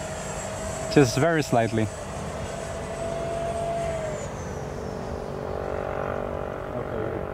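An RC model Vulcan jet runs through a go-around and touch and go. A voice speaks briefly at the start, then a steady distant turbine roar holds, its pitch sliding downward as the jet passes.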